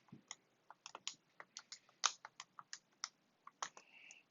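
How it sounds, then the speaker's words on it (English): A string of quick, light key presses on a calculator keypad, typed in irregular short bursts, close and fairly quiet, alone with no talk. "Let me type this in my calculator real quick here."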